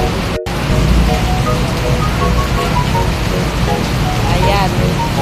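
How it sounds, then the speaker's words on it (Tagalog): Heavy rain pours down steadily during a flood, a loud continuous hiss of water on surfaces close by, with voices talking faintly underneath. "Lakas ng ulan."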